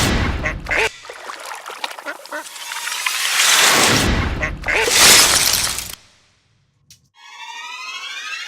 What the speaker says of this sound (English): And then I'm gonna add a nice sound of ducks right here.